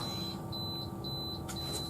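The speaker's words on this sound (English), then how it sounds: "The rice maker is beeping." Repeated electronic beeps from a rice cooker, several short tones in a steady pattern over a constant background hum.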